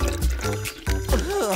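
Water poured from a plastic bottle, a short gurgling, glugging pour in quick bursts, close and fairly loud.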